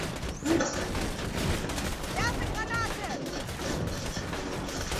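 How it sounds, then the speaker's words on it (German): Sniper rifle fire in the shooter game Borderlands 2 cracks amid a busy battle, with repeated shots and impacts over constant background game noise and bursts of other gunfire, while a player talks over it. "ich nehme die jetzt mal mit dem Sniper unter Beschuss"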